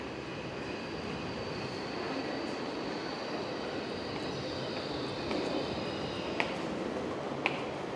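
Steady rumbling train noise in Breda train station, Netherlands, with a faint high squeal of wheels on rails, plus a couple of sharp metallic clicks near the end.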